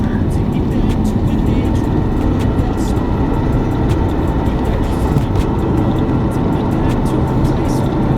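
Cars on the Nairobi Western Bypass roll past below, forming a steady, loud roadway roar of tyres and engines that fills the whole stretch without a break.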